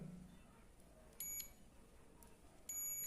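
A multimeter's continuity buzzer sounds as the probes touch: two steady electronic beeps, each a bright high-pitched tone, a short one early and a longer one at the end, fairly faint against a quiet background.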